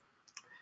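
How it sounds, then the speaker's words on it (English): A few faint, sparse clicks of fingers striking a computer keyboard, with a slightly louder keystroke near the middle and no talking. "I keep hitting the keyboard."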